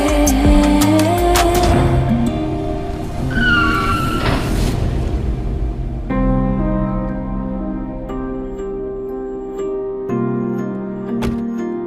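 A car's tyres screech briefly as it brakes suddenly, the sharp squeal standing out over dramatic background music.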